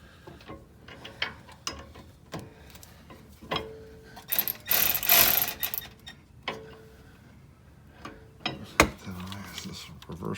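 A ratcheting wrench clicks and whirs while fastening parts during a rear drum-to-disc brake conversion on a Toyota Corolla, with uneven bursts of mechanical ratcheting, some louder spells mid-way, and occasional metallic knocks.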